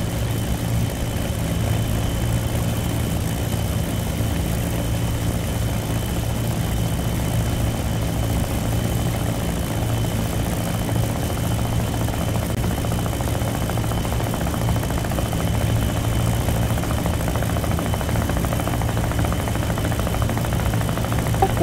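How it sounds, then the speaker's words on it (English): Damaged piston aircraft engine in a World War II flight simulation game, a steady low droning hum with a rhythmic throb like a helicopter rotor, continuous and unchanging without talk. "your engine doesn't sound good at all. It sounds like a helicopter"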